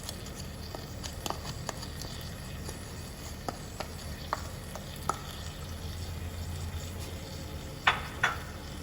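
Chicken with salt, turmeric and red chili is stirred in a pot over a low, steady background sizzle. Scattered light clicks and scrapes come from the utensil, ending in a couple of sharper knocks, with no speech.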